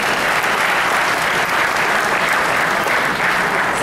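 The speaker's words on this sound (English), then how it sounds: "a loud round of applause for Shri Rahul Kansal" Audience applause at the Times of India Green Parliament event with Akhilesh Yadav, greeting an executive on stage; dense, loud, steady clapping from a large crowd fills the whole stretch without a break.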